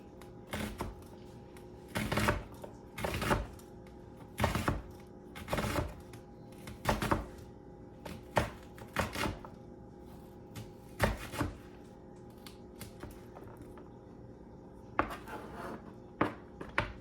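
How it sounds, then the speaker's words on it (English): A knife slicing white onion on a cutting board gives bursts of quick rhythmic chopping strokes, close and distinct, separated by short pauses, with no talk. "I'm gonna slice some white onion."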